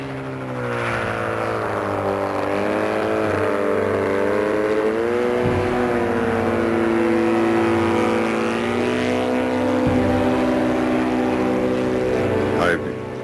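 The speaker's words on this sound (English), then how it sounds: "Though it looks like a helicopter, it's actually called an autogyro and flies like an airplane." An autogyro flies with its engine running, giving a steady droning tone that rises and falls slightly in pitch, while a voice talks over it.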